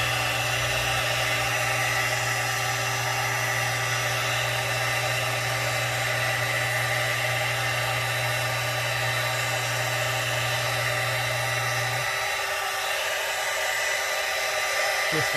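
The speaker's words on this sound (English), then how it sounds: "I'm gonna use my heat gun" A heat gun blows steadily on a vehicle's rear differential, a loud continuous airy roar with a low motor hum that cuts out near the end, leaving a fainter rush.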